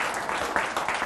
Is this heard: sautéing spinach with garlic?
no